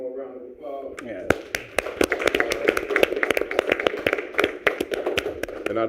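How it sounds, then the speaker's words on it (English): A small group at a school board meeting claps in sparse, distinct hand slaps, with voices talking over the applause throughout. "So we can get up one more round of applause."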